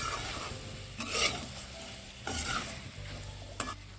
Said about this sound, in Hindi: अब हम इसमें टमाटर ऐड करेंगे और इसे भी अच्छे से मिला लेते हैं।